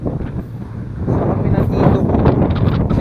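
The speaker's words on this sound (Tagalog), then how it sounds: "lakas ang hangin" Strong wind buffets the microphone during a ride in Carmen, Baguio district, a rough, loud roar that swells after the first second and stays heavy throughout.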